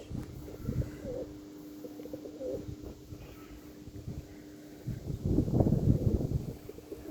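Tumbler pigeons coo softly in a quiet loft, giving a few low, muffled calls against a faint steady background hum.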